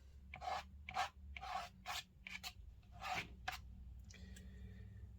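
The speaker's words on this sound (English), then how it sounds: "We could probably scrape if we want to as well." A tool scrapes across paper in a wet-in-wet ink landscape painting, making several close rough rasping strokes in bursts against a low background hum.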